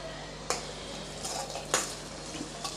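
Onions and curry leaves stirred in a pan for an egg pepper masala, a spoon scraping with a few distinct metallic clinks over a faint background, quiet and close.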